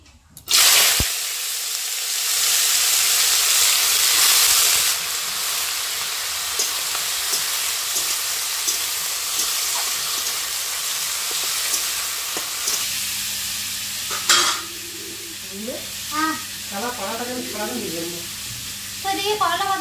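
Bitter gourd and potato sizzle and hiss loudly in a hot wok, a steady close frying roar that eases into a quieter crackle near the end.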